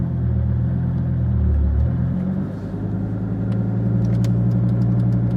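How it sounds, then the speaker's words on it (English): A Dodge Viper SRT-10's V10 engine rumbles deeply and loudly from inside the car while driving in first gear, swelling briefly then settling into a steady low drone, with faint clicks and ticks over it. "that V10's making an awesome sound"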